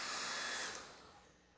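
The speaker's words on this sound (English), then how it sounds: "I do want to use the hairdryer again, because it'll make it a lot easier for me to handle." A hair dryer blows on a painted clay sculpture of an abominable snowman, loud at first, then its whir winds down and fades as it is switched off, with no talk.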